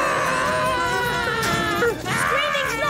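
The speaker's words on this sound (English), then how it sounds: "Screaming's not helping!" Animated cartoon characters scream and wail together in a Peter Rabbit episode, high strained voices rising and falling loudly and continuously with overlapping shouts.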